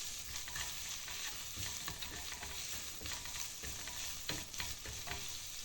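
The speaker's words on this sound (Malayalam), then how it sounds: "അങ്ങനെ ഉപ്പ് ഇട്ടിട്ട് നമുക്ക് നന്നായി ഇളക്കി കൊടുക്കട്ടോ" Sliced onions with curry leaves and salt are stirred in a hot pan for tomato rice, a soft, steady sizzle under repeated scraping strokes of a spoon, fairly quiet and close.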